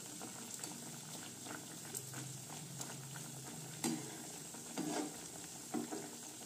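Semolina thekua deep-frying in hot oil, a steady bubbling sizzle with a few soft scraping stirs of the oil and ladle clinks, close and moderately quiet, no voices.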